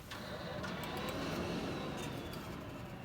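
A DTF printer prints onto a cap, giving a steady, close mechanical whirr and hum with light rattles throughout, and no talking.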